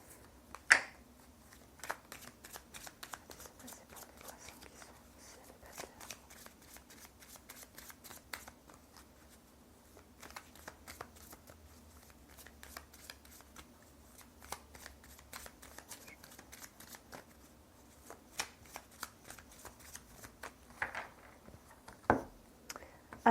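Tarot cards are shuffled and drawn for a Pisces reading, giving soft papery riffles and scattered crisp flicks and taps at close range, quiet and irregular throughout without speech.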